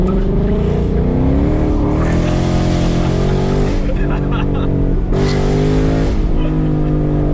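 A 2016 Ford Mustang GT PP1 spins and drifts during a hard night drive, its engine roaring loud and steady from start to finish with shifting revs, faint tire noise beneath, and no voices heard.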